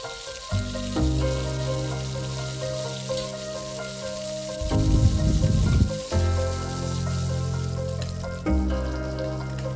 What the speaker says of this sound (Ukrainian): Перш за все підсмажую підчеревину на шкварки, щоб з'явилося трохи жиру